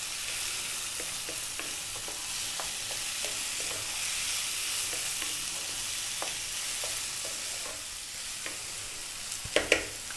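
Rice dish frying on high heat in a pan, stirred almost constantly, giving a steady bright sizzle with scattered scraping clicks of the spoon and a couple of sharper knocks near the end, no talking.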